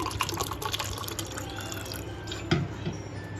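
Plain water trickles and drips steadily into a glass, with a few brighter splashes and a small clink partway through; no one speaks.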